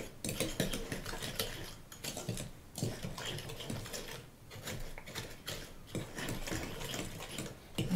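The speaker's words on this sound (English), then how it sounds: "she's incorporating the eggs with the brown sugar and the granulated sugar" Eggs are stirred with brown and granulated sugar for brownie batter, giving repeated scraping and clicking strokes of a utensil against a bowl in an uneven rhythm, close and fairly soft.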